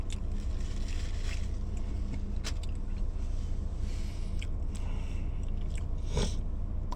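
Someone biting and chewing a Subway The Boss meatball pepperoni sandwich, close wet munching and occasional crunches heard alone against a low background hum.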